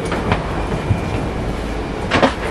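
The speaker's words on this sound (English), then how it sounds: "The Harry Potter train, am I on the Harry Potter train?" Passenger train running on rails in Italy, heard from inside the carriage as a steady low rumble with faint rhythmic clicks and a brief louder clatter near the end; no talking.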